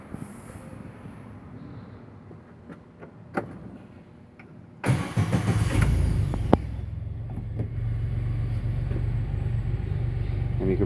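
A 2020 Arctic Cat Prowler Pro UTV engine starts with a sudden burst, then settles into a low, quiet, steady idle rumble, heard from close by without talk.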